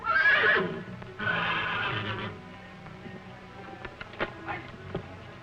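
A bay horse neighs loudly twice in a row, followed by quieter shuffling and soft clip-clop-like knocks.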